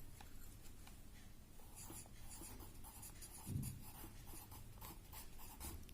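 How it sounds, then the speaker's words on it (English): Answer being written by hand on paper, a faint scratching of pen or pencil in short strokes, close and quiet, with no talking. "So we will write answer here."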